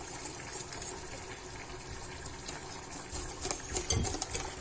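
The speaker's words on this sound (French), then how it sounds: "je vais rajouter directement la moitié de mon lait chaud. Et je fouette." Hot milk poured into apple tart custard and whisked, making a steady liquid pouring rush that swells louder toward the end with brisk splashing and faint clinks.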